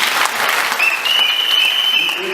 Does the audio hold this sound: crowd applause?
yes